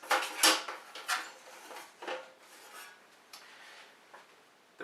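Metal barn doors on a stage light being swung open, giving a quick run of light metallic clanks and rattles, a few sharp hits then softer scrapes trailing off, close by with no talking.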